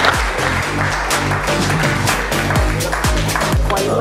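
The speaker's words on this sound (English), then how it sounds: "Let's give all of them a round of applause, everybody." A crowd at an RCB cricket team bonding session during IPL 2021 gives sustained, dense applause, with close claps over a tonal background.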